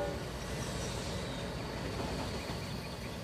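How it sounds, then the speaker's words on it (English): A train rumbles past near railroad tracks as a steady, broad low roar with a faint whistle-like tone above it, continuous and moderately distant, with no talk. "I can hear a train now."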